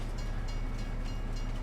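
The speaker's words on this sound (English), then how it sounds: "That's a passenger train" Passenger train rolling by in steady low rumble with a broad wash of rail noise, fairly close and continuous throughout, no voices.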